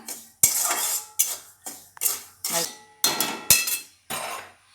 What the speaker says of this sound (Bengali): এবার একটা কড়াই বসিয়ে দিয়েছি সুজিটা কড়াইয়ের মধ্যে দিয়ে দিলাম